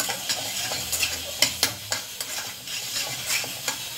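Food sizzling and frying in a pan over a wood fire while being stirred, with repeated scraping clicks of a spoon against the pan over a steady hiss, for a fish fillet escondidinho.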